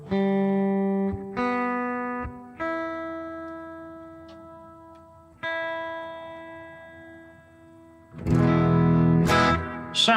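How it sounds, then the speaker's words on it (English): A pink electric guitar fitted with a Floyd Rose whammy bridge is picked in single ringing notes that decay slowly, each struck fresh every second or two, ending in a louder, distorted burst of strumming with wavering pitch. "It's got a Floyd Rose whammy system on"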